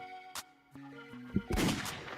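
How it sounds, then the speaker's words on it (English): A sharp gunshot sound effect cracks out loudly after a few tonal electronic beeps, with a burst of booming noise trailing off behind it and no talking. "And I got a gunshot."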